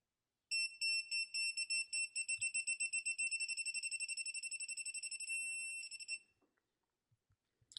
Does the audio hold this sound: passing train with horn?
no